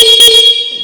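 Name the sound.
Aprilia RS 457 motorcycle horn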